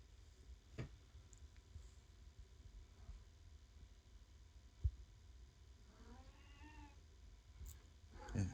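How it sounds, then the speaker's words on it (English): A pet cat meows faintly in a room, a few soft drawn-out calls heard distantly against low background hum and light clicks. "If y'all hear that, that's my cat."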